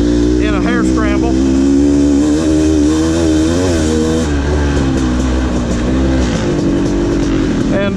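Dirt bike engine with a 500 cc motor racing in a hare scramble, loud and continuous, bogging and lugging at low revs with rising and falling pitch, other bikes droning nearby throughout.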